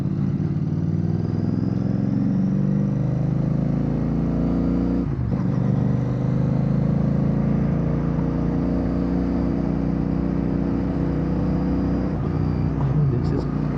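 A Royal Enfield Bear 650 motorcycle fitted with a Red Rooster Performance exhaust drones in a steady, low, continuous rumble at close range, holding a constant pace with no sharp revs.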